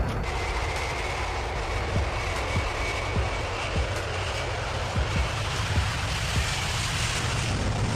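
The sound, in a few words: supersonic passenger jet aircraft engine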